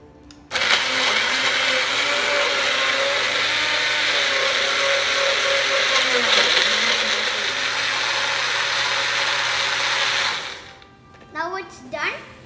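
A blender grinds a breakfast smoothie in one loud, steady whirring run of about ten seconds, then stops abruptly, followed by a few brief rattles and clinks.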